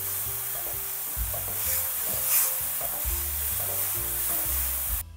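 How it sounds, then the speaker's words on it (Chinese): Diced carrot and chopped wood ear mushroom are stir-fried over high heat, with a loud, steady sizzle and repeated scraping strokes of the spatula against the wok. "下入胡萝卜丁、木耳碎，大火翻炒均匀，"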